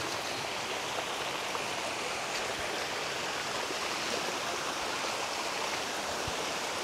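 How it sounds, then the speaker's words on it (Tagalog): Rushing water from a river below the layered Buruhin Falls in Bailen, Cavite, a dense, constant hiss of flow at steady loudness with no voices. "Ilog na."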